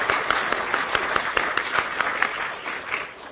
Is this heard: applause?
yes